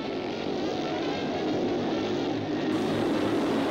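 JAP-engined speedway motorcycles race past in a continuous loud, buzzing engine roar that holds steady throughout, a dense motor drone with no voices.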